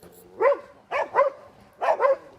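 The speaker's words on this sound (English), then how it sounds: "he would run every time a dog would bark at the pig" A pig-hunting dog barks at a live pig during bail training, giving five loud, close woofs, mostly in quick pairs, with short quiet gaps between.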